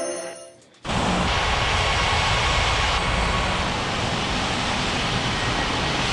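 A game aircraft taxies toward runway 17 right at a busy international airport, heard as a steady, loud, broadband engine roar that swells in abruptly after a brief quiet lead-in and then holds evenly.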